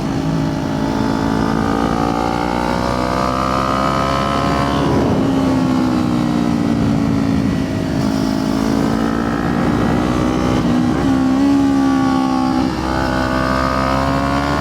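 A small 400 motorcycle engine revs up and down repeatedly as it rides, loud and close, its pitch rising with each gear.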